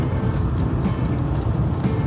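Inside a Subaru driving along, a constant low drone of engine and tires on pavement, with soft intermittent bumps and rattles over the steady rumble, close and even in level.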